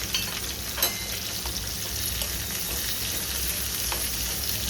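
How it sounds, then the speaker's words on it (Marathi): Chopped green chillies roast in a hot pan with a steady, even sizzle and frying crackle, close and continuous with no talking. "हिरवी बारीक मिरची चिरून घेतली, ते भाजायची आहे."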